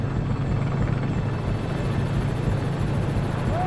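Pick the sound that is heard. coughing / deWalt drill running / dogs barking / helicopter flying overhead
helicopter flying overhead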